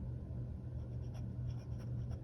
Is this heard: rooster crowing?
no